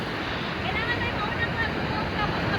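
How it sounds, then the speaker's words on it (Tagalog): Strong ocean surf churns continuously near a rocky shore by a mountain rock formation, a dense, steady wash of water and wind noise at moderate level without distinct breaks. "Grabe ang alon. Ang ano, ang lakas."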